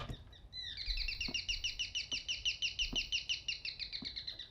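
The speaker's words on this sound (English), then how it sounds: "First, I need to kill that damn bird." Bird in the Devotion video game chirping a rapid, repeated string of high, bright tweets that runs steadily for several seconds, close and clear over faint low knocks and background hum.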